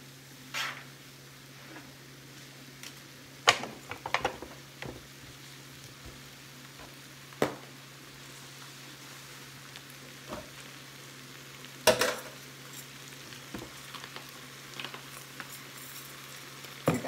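Pork chops sizzle on a grill, a soft continuous frying hiss punctuated by occasional sharp clanks and scrapes from handling, fairly faint and close with no talking.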